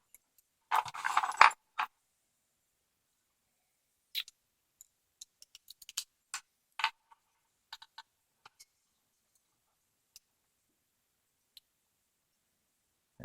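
Keys on a ring jangle up close in a short burst while someone handles a Schlage six-pin padlock, followed by scattered light clicks and ticks of small metal parts over otherwise quiet air.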